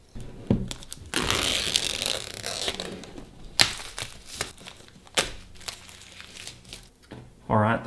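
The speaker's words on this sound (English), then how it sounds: "Alright, the plastic's off." Plastic shrink wrap crinkles and tears as it is pulled off a World of Warcraft Shadowlands Epic Collector's Edition box, with loud bursts of crackling and crumpling in uneven handfuls and brief pauses between them, close to the microphone.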